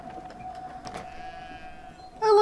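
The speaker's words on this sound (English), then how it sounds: "Wait, can I do anything with the sheep?" A sheep bleats in the video game Brothers: A Tale of Two Sons, one short, nasal, wavering bleat heard close and moderately loud over soft ambient game sound, followed by a sharper sound at the end.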